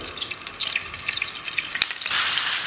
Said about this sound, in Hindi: और इन पर अब हम गोल्डन कलर आने तक फ्राई करेंगे